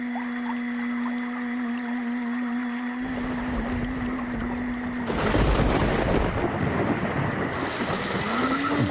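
Monsoon rain in the Western Ghats (Sahyadri range), heard as a dense, loud, continuous hiss and roar of falling water that swells after a calmer opening with a steady tonal drone. No voices are heard.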